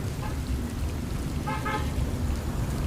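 Steady rain pours over a city street at night, a constant broadband hiss filling the scene, while a car horn toots briefly twice in the middle distance.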